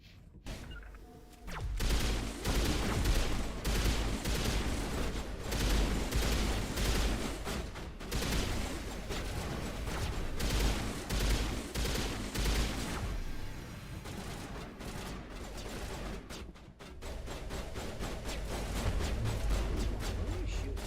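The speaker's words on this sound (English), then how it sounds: "What are you shooting at?" Pistol gunfire in the Mass Effect video game, dense rapid shots and impacts mixed with in-game effects and battle noise, continuous and loud throughout.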